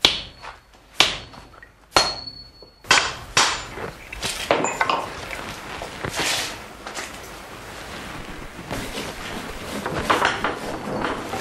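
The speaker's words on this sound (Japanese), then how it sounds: "その後鋼を温め叩き伸ばし続ける。" A smith hammers heated steel to forge a Japanese sword, striking sharp ringing metallic blows in an irregular series that later give way to denser, faster clangs, loud and close, with no talk.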